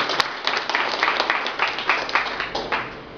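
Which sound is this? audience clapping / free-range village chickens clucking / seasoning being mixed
audience clapping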